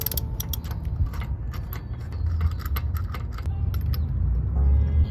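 Ratchet wrench tightening a lug nut on a car wheel, the car still on the ground during a lug nut change: quick metallic clicks and rattles in short bursts over a low background rumble, close by.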